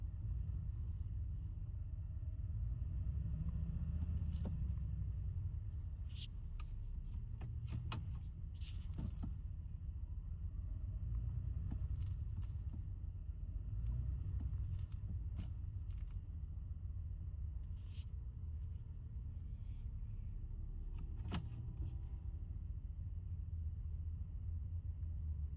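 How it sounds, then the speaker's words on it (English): 2025 Toyota Tundra TRD Pro creeping forward slowly in drive with the rear differential locked, a steady low engine and drivetrain rumble with a few faint clicks and knocks from the cabin, no talking. "Okay, I'm just driving forward a little bit."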